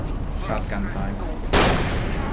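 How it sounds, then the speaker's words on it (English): A shotgun blasts once in the Alan Wake game, a sharp loud report after a stretch of quieter gameplay sounds, with talking around it. "Yeah, the shotgun is pretty good in this as well."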